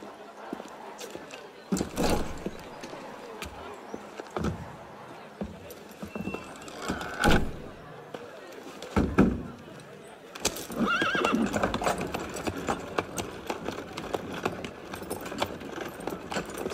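Horses in the video game Assassin's Creed Unity, with several loud whinnies and neighs, snorts and clip-clopping hooves scattered across the stretch, close by, while people talk over them.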